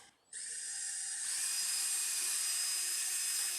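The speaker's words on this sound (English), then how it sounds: "he drilled some holes for the hinges" A drill bores holes for desk hinges during a cargo trailer camper build: after a brief pause, a steady high-pitched whine runs continuously and fairly loud, rising slightly in intensity partway through, with no talking.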